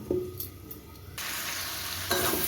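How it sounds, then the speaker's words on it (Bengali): Spice masala sizzles and fries in a pan with stirring scrapes, starting quieter and then turning into a steady loud hiss that carries on to the end, with no voices. "দিয়ে মশলাটা কষিয়ে নিই"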